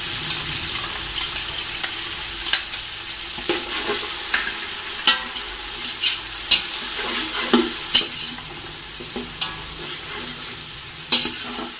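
Tomatoes and ginger-garlic paste fry with browned onions in a pan for beef mandi, a continuous crackling sizzle punctuated by repeated spatula scrapes and taps at an uneven rhythm.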